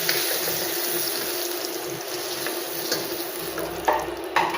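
Cumin seeds, bay leaf and chopped onion frying in oil in a wok, a steady close sizzle with scattered crackles and a couple of sharper clinks near the end, no talking.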